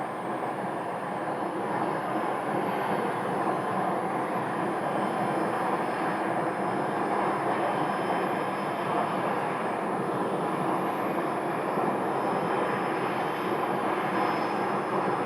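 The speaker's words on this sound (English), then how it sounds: "that's the Piper aircraft" A Piper light aircraft flies near a flight school at Scottsdale, its engine a steady, distant drone that hums evenly under broad outdoor background noise with no talk.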